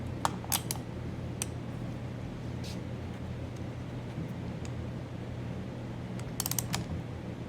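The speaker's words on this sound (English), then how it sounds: "we have our torque wrench set to 65 foot-pounds" A torque wrench tightens the flywheel fastener on a Briggs & Stratton 950 Series engine, with a few faint ratcheting clicks near the start and a short burst near the end over a quiet mechanical background hum.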